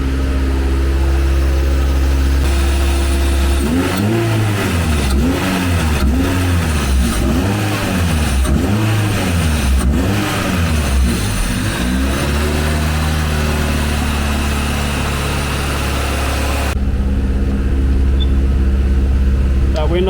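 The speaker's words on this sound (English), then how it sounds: "as you can see, the car's running perfect. Idling a bit high because it's absolutely freezing" A Mini Clubman fitted with a Honda B16 VTEC engine runs and idles slightly high in freezing weather, its steady low drone loud and close, with a rhythmic pulsing throb through the middle section before it settles back to an even idle.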